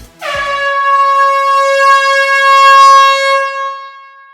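A single loud, sustained air horn blast rings out for about four seconds, steady and brassy, then tapers off.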